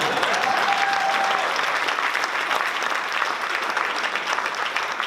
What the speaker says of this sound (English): And you can clap.